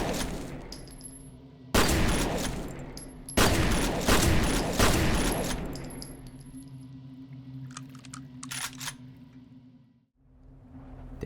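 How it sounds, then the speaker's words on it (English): Close, booming blasts from the VK12 combat shotgun in the shooter F.E.A.R., two heavy shots about 1.6 seconds apart, each with a long decaying tail over low game ambience, followed by softer mechanical clicks and rattles. "The VK12 combat shotgun."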